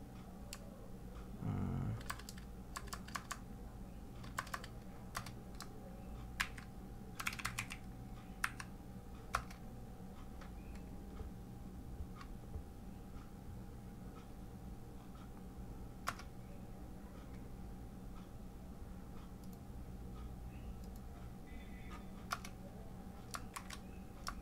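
Keystrokes on a computer keyboard while building an Android Studio layout, scattered irregular clicks at close range over a steady low hum, with no one talking.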